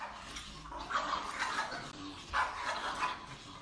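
A dog barking from behind a barrier such as a fence or door, showing barrier aggression: a few sharp barks in quick bursts, muffled and moderately close, with no talk.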